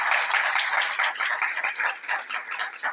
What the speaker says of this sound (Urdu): آئیے اس پرستاروں کے گھرانے کے لیے زوردار تالی بجائیں گے.